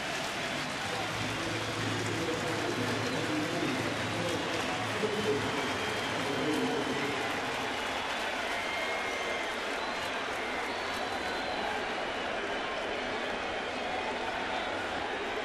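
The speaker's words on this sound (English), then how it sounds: "the crowd here at the stadium with a standing O for Derek" A baseball crowd at Yankee Stadium gives a standing ovation, with a dense, sustained roar of cheering and applause filling the stadium throughout.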